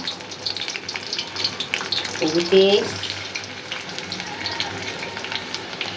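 Dried loitta fish and garlic sizzle in hot oil in a kadai over a low gas flame, a steady, close frying hiss with a brief louder surge partway through.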